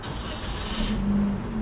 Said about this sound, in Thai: แค่กดสตาร์ทเหยียบเบรกนะคะแล้วก็กด